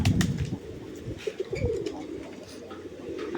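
Pet pigeons cooing in their loft, a run of low throaty coos up close with a brief flutter of wings at the start.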